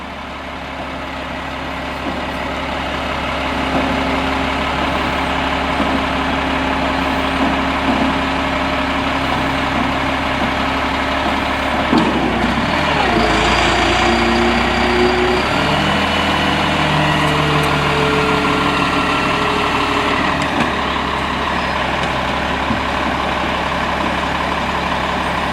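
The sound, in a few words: delivery truck engine idling while unloading roof trusses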